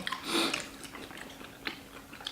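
Someone chews tteokbokki rice cakes dipped in spicy sauce at a Cheongju tteokbokki shop: soft, close, wet mouth sounds with a few sharper bites, alone and quiet.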